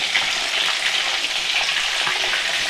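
Fish and its roe frying in oil give a dense, continuous crackling sizzle with spitting pops, loud and close, and no voices.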